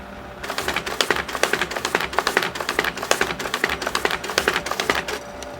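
A WBBM 98M paper folding machine runs, trifolding letter sheets with a rapid, steady clatter of sharp mechanical clicks and taps, loud and close, with no voices.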